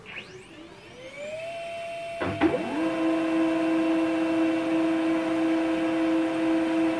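An HP Laser 107w printer starts up and prints a document, a rising mechanical whir followed by a steady hum with sustained tonal whine, close and continuous throughout.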